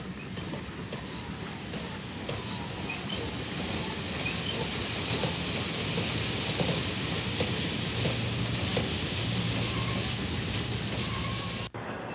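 An ET&WNC (Tweetsie) railroad train is moved around a Y track at Port Rayon, a steady rumble of rolling wheels and cars lasting throughout and ending abruptly.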